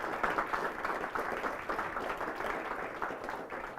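A university audience applauds a panel after a talk on the search for life, with steady, dense clapping from many hands filling the room for about four seconds.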